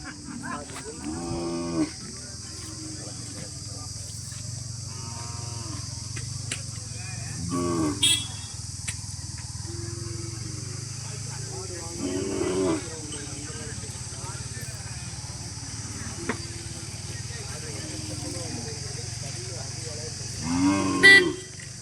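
Milk cows and calves at a cattle fair in Kangayam, lowing in repeated moos, some near and loud, others farther off, over steady crowd murmur and voices, with an occasional vehicle horn.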